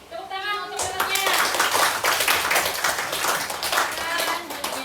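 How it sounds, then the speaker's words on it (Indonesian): Students in a classroom clap together for two classmates, a dense, sustained burst of hand claps filling the room close by, with a voice speaking briefly at the start. "Oke, tepuk tangan untuk keduanya."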